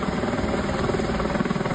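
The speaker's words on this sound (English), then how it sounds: "Helicopters hovering over trees, performing urgent rescues like this one." Rescue helicopters hover low over trees along a flooded river after catastrophic floods, a loud continuous rotor drone and whine close by, with no speech.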